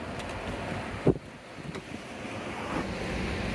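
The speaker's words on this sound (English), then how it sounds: "Yes, very windy indeed." Wind gusts buffet the microphone on the coast over a low, steady wash of surf, with a sharp thump partway through.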